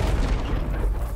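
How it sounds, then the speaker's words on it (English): A grenade blast in Warhammer 40k: Chaos Gate – Daemonhunters, a deep, rumbling boom that fills the short moment with low-end roar and no talk over it. "Let's hit these guys with another grenade."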